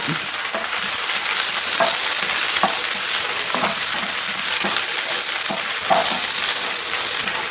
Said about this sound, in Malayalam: അല്പം എണ്ണ ഒഴിച്ച് കറി താളിച്ച് എടുക്കും നമ്മൾ